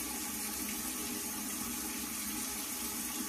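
Running tap water splashes steadily while a face is dampened, a constant close hiss and gush with no pauses or talking.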